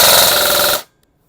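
G&G TR16 airsoft rifle firing a rapid full-auto burst, a loud, fast chattering string of shots up close that stops abruptly, leaving silence.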